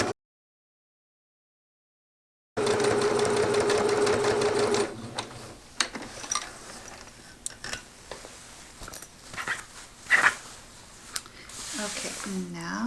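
A sewing machine runs a steady, fast stitching burr along a zipper panel, then stops, followed by fabric handling and rustling; a person speaks over the later part.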